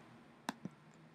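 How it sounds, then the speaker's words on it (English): A computer mouse double-clicked to open a web page, two quick faint clicks close together, near and alone against quiet room tone. "open the page by double clicking"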